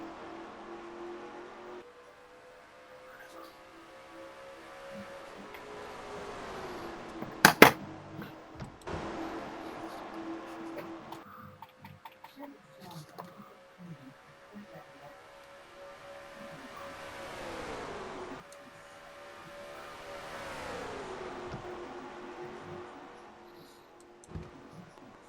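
Race cars in a video game lap the Atlanta track during the Motorcraft 300, engine tones rising and falling as cars pass, with a sharp click partway through and no talk.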